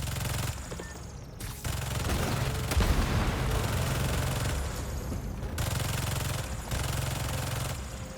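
Rapid turret gunfire in Marvel's Spider-Man 2, rattling in sustained bursts with short gaps and heavy thuds, loud and close throughout.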